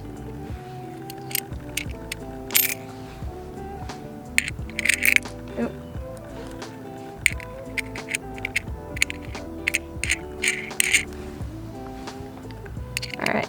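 Metal washers go onto the cable bolts of a 3000 watt inverter being installed on a truck, with small, close metallic clicks and taps scattered irregularly over a quiet background.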